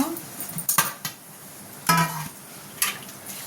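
Dishes left from lunch are being washed, with sparse clinks and knocks of utensils and plates spaced a second or so apart over a quiet background.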